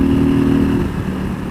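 A motorcycle engine pulls hard under acceleration, a loud close steady drone that shifts pitch partway through, with no voices.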